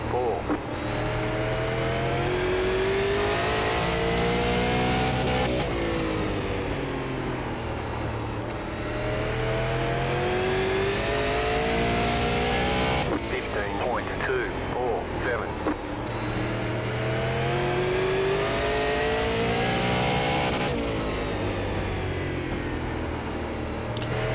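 Race car engines in the iRacing sim, SLM cars at The Bullring, roaring and revving in repeated rising sweeps as they lap, loud and continuous, with someone commentating over them.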